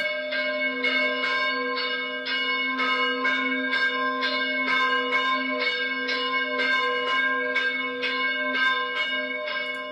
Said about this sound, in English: ranging their church bells this afternoon